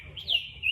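A single short bird chirp rises and sweeps in a thin, high tone, brief and fairly faint over a low background hum.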